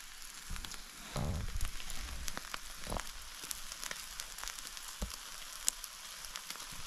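A thick tomahawk steak searing over an open campfire gives a steady, crackling sizzle with scattered pops and sharper snaps, moderately close and with no voices.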